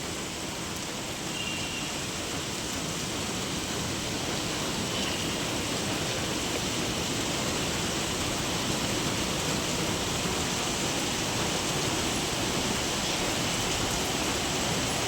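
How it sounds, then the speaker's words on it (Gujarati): Rain pours steadily over an open farm field in cool weather, a dense, even hiss close by that holds at constant loudness throughout with no pauses or voices. "વરસાદ કેવો મસ્તીનો પડે છે"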